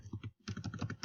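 Quick, soft keystrokes on a computer keyboard tap out a short burst of typing, broken by a brief pause partway through.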